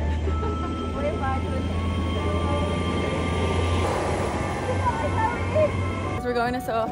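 Steady low rumble inside a London train carriage, with a constant drone and rattling running throughout and a brief change near the end; no clear talk.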